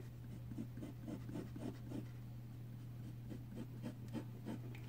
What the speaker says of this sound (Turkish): İnsanın eli dolma kalem alınca ister istemez el yazısına kayıyor